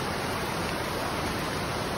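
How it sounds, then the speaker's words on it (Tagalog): A waterfall at Barangay Arangin in Naujan, Oriental Mindoro pours down in a steady, dense, broadband rush, close and continuous with no other sounds. "Yan na ang falls"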